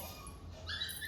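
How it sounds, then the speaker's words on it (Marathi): A puppy whimpers with thin, high-pitched cries that grow clearer toward the end, fairly quiet against a steady low room hum. "कुत्र्याचा आवाज येतोय"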